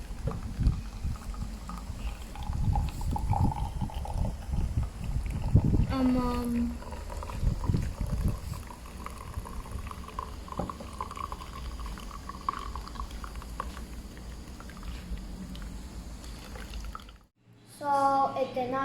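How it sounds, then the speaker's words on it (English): Supercooled Coca-Cola is poured from a freezer-chilled bottle into an ice-cold tankard, giving a steady close pour with liquid gurgling and fizzing that runs for most of the stretch before a short break. "Now let's pour it inside the ice cold tankard."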